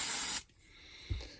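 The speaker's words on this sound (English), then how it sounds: "So I'll just give this a quick spray off with some brake cleaner" Brake cleaner sprays from an aerosol can onto a shock absorber of a Yokomo RC car in one short, sharp hiss that cuts off abruptly, followed by quiet and a soft knock.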